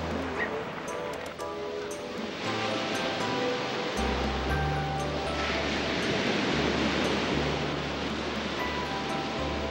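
Steady rushing of waves and surf, a continuous broad wash of water with a low rumble underneath, no voices.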